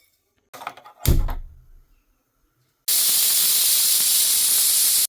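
A pressure cooker cooking corn vents steam in a loud, steady hiss for about two seconds near the end, preceded by a few brief knocks and clatters.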